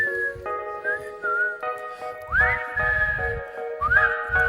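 Melodic whistling with sustained tones and rising swoops, close and clear, while a low rumbling noise runs underneath in bursts.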